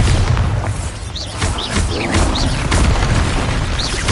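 Repeated booming blasts of the Bombarda spell in the Hogwarts Legacy video game, loud and close, with magical whooshing zips cutting through a dense, rumbling battle din.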